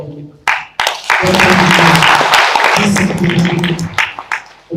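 Applause from a conference audience rises and holds strong for a few seconds before thinning out, with a voice talking over it.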